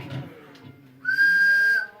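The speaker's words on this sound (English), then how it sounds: "the rape whistle, which I have one. I'll blow it." A handheld safety whistle blown once in a steady, shrill blast lasting under a second, after a brief murmur of room noise.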